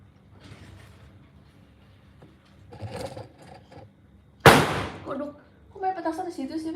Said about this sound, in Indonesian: Ada main petasan, guys.